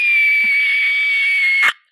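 A voice mimics Mothra's cry from the Godzilla films, producing one sustained, steady high-pitched shriek lasting close to two seconds that ends in a short breathy burst, loud and close with no other sound behind it.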